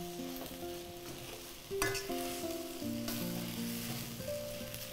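Kuthiraivali millet mango rice is stirred in a hot pan, a gentle sizzle with a few scraping strokes and a faint tonal hum in the background, no voices.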